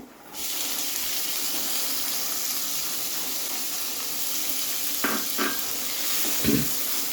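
Finely chopped onions dropped into hot oil with cumin and asafoetida, bursting into a loud, steady hiss of frying that holds throughout, with a few utensil clicks near the end.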